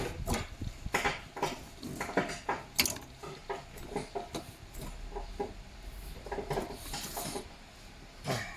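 A faint, dry rattling and clicking from a spinning AC compressor bearing on a 1996 Honda City, irregular and close, with light mechanical ticks throughout.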